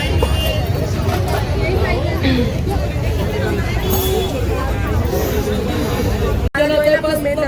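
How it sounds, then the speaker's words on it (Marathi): Dense crowd chatter fills a busy Manor street market, many overlapping voices murmuring steadily and close by, with faint clinks and traffic noise mixed in throughout. "लोकांची गर्दी इतकी झाली ना की काय मला सामानच नाही दिसत"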